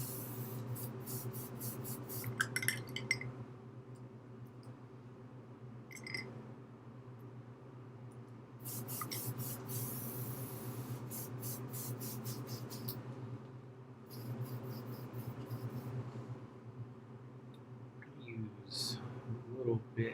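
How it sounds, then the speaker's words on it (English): An airbrush being cleared out while painting an Abaddon the Despoiler miniature, repeated short bursts of hissing air over a constant low electrical hum from the compressor. "So let me clear out the airbrush."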